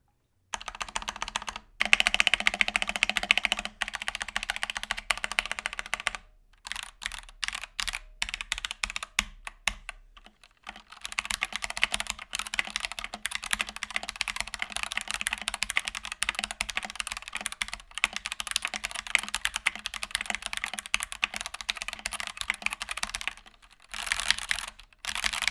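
Steady, fast typing on a stock mechanical keyboard before any modding, dense keystroke clatter running nearly continuously with a few brief pauses, close and fairly loud.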